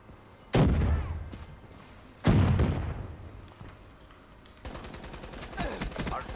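Gunfire in the Black Ops 3 video game on Xbox One: two loud bursts of shots with thuds and echoing tails, then a steadier run of quieter rapid fire near the end.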